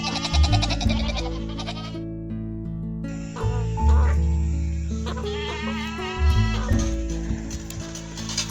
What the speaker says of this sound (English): Feral goats have become one of the most dangerous invasive species in the country.